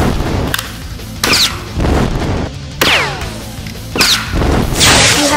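Captain America Slide Blast Armor toy blaster firing repeatedly, about five sharp electronic blast effects with whooshing sweeps, each burst following quickly on the last at close range and loud.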